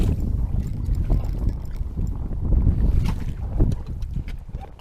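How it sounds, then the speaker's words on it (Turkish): Gusty wind buffets the microphone in a steady low rumble that swells and eases, with no voices. "Rüzgar geldi."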